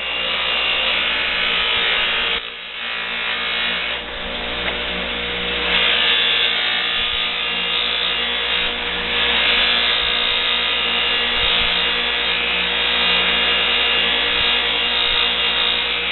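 A fabric buffing wheel loaded with polishing compound runs against a workpiece in a home shop, giving a steady, loud, close whirring grind with rough rubbing texture that holds for the whole stretch, one brief dip early on.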